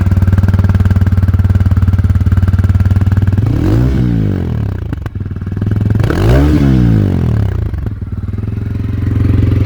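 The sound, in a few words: TVS Ronin Agonda 2026 motorcycle engine running after self-start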